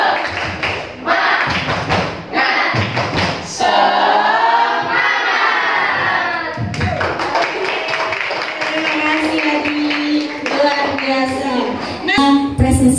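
Schoolchildren in a classroom perform a rhythmic clapping chant, sharp group claps and thumps in patterned bursts alternating with the class chanting together in unison, close and loud.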